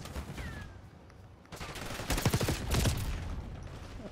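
Bursts of automatic gunfire from a Call of Duty Black Ops 6 match, fairly quiet at first, then denser rapid volleys in the second half, with no talk over them.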